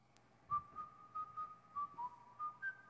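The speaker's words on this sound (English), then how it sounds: "Faintly to their ears comes the sound of offstage whistling." Whistling from offstage in a radio drama, a quiet, thin melody of short sustained notes in a gentle rising and falling tune, heard alone against near silence.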